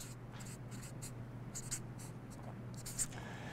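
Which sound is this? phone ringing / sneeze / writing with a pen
writing with a pen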